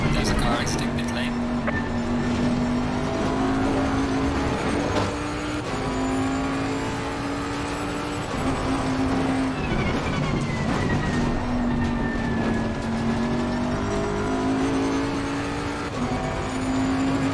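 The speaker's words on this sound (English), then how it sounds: "There's a car exiting pit lane." A race car leaves the pit lane in a racing video game, its engine whining through repeated gear changes, steady and moderately loud beneath ongoing conversation.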